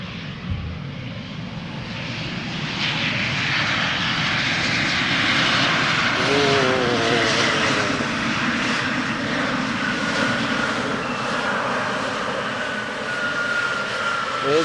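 A KLM airliner arriving from Aberdeen touches down and brakes on the runway at Amsterdam Schiphol, its loud engine roar and reverse-thrust rush holding steady and close for several seconds, with a rising whine partway through.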